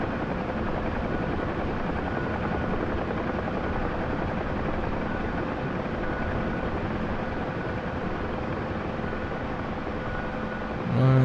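A UH-1 Huey helicopter flying in the DCS flight simulator gives a continuous, loud, close rotor and turbine roar that holds steady throughout, with no talking.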